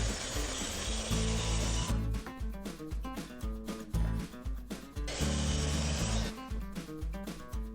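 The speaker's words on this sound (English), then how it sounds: "The plywood we're cutting here is 26 5/8 by 18 7/16." A saw cuts plywood panels for the top of a Layens beehive lid, making two loud bursts of rasping cutting noise with a rhythmic workshop clatter and thumps in between.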